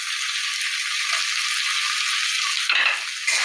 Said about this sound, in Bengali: আবারও মশলাটাকে এইভাবে কিন্তু কষাতে হবে।